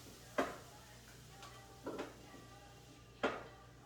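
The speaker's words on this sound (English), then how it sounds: "And then just mix that around." Chicken taquito filling with salsa being stirred in a bowl, faint scraping and clinking strokes, three or four short taps spread apart against quiet background.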